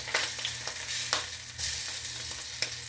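Chicken wings frying in hot grease, a steady loud crackle and sizzle with sharper pops scattered through it, no voices.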